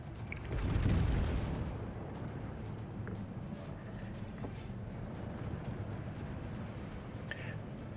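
Battleship naval gunfire in the World of Warships game opens with a heavy, rumbling boom that swells and fades, followed by a low continuous roar with faint distant thuds.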